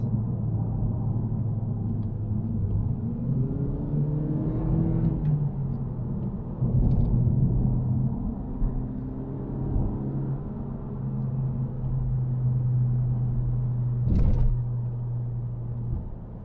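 A Honda Civic engine in sport mode, shifted with paddle shifters, droning steadily from inside the cabin as revs rise and drop between gear changes, with a short knock partway through and no talk.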